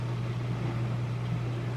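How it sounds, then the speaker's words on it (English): A household dishwasher runs steadily in the background with a continuous low hum and a broad wash of noise, unchanging and fairly faint throughout. "my dishwasher's going in the background"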